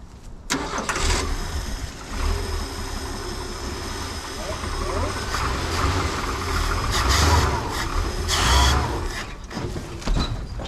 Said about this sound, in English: We got it running. We got it idling.